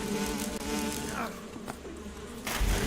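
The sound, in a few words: bees buzzing in Metal Gear video game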